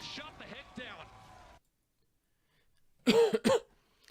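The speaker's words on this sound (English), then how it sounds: "apologies for the cough, as always" Talking gives way to silence, then two sharp, loud coughs close to the microphone.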